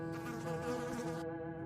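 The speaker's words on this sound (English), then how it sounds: "Just that same droning buzz from the black mass of insects circling him" A swarm of flies drones and buzzes continuously in a short, steady burst, fairly faint and close, with no voices.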